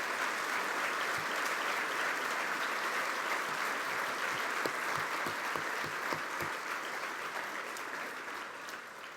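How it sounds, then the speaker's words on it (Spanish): A church congregation claps together in praise during a service, a dense, sustained burst of applause filling the room at steady loudness for several seconds before easing slightly toward the end. "Dale un aplauso al Señor."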